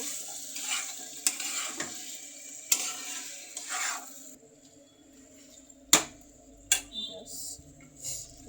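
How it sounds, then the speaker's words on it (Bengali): Chicken and new potatoes tossed in spices in a pan for chicken bhuna, giving a soft low sizzle with intermittent spatula scrapes and sharp metallic clinks, quieter toward the end. "5 মিনিটের মতো নাড়াচাড়া করব।"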